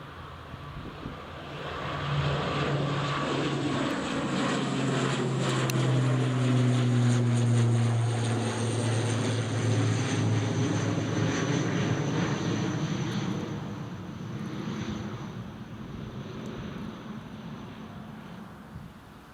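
An Aer Lingus airliner takes off at Newcastle Airport, its engine roar swelling to a loud peak then slowly fading into the distance as it climbs away, with a falling pitch sweep.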